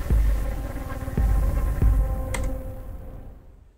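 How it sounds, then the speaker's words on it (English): Droning synth pad opening a video game track, a sustained hum pulsing with soft low thumps about every second, then fading out. "the song is starting off with this droney kind of synth"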